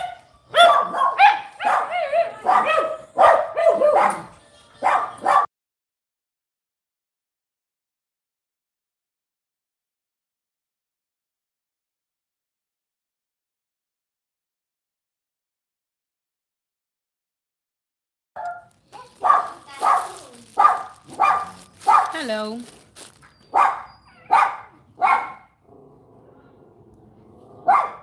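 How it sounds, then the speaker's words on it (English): Dogs bark in rapid, loud bursts for several seconds, fall completely silent for a long stretch, then break out in another volley of barking and yelping. A voice briefly says a greeting. "Dogs fight. I wanna hear."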